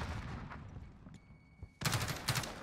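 Gunfire from a shooter video game during a gunfight tournament match: a faint shot or two early on, then two loud bursts of rapid automatic fire in the last second, with no talk over them.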